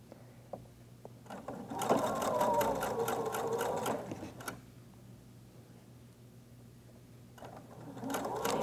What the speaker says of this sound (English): So let's just sew down this whole line.